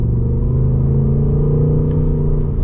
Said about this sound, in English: That is definitely a Coyote engine